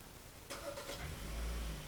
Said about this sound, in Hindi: अगर आप इसको होल्ड बटन को दबा के रखेंगे तो गाड़ी ऑटोमेटिकली स्टार्ट हो जाएगी